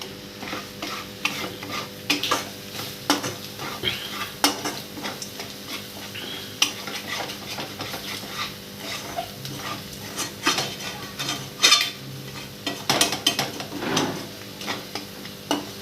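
Ginger paste and homemade masala of coriander seeds, cloves, cinnamon and cardamom fry in a pan for fish curry, giving a steady sizzle under repeated scraping strokes of a spoon against the metal.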